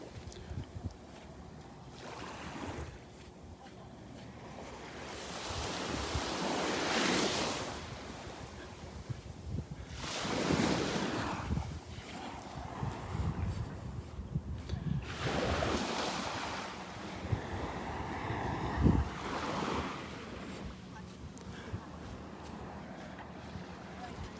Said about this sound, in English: So we're like halfway down Vanderbilt Beach.